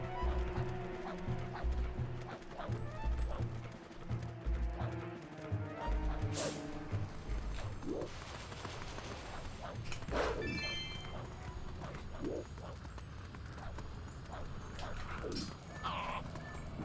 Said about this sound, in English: Oh, you gotta have multiple dogs at the ready.